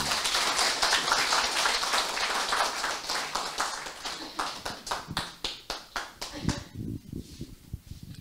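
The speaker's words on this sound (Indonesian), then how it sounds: "Monggo kita sambut dulu Pak Bayu dengan tepuk tangan" Audience applause greets a speaker being welcomed at an agricultural training participant introduction, a dense burst of clapping that thins into scattered individual claps before a voice begins speaking.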